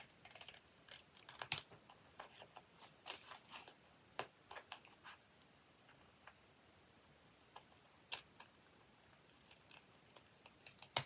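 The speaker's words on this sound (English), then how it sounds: "It's a big pair of scissors and a couple of straight lines." Big pair of scissors cutting straight lines in paper for a craft star, a scattering of sharp, close snips and clicks in irregular bursts with quiet gaps, no talking.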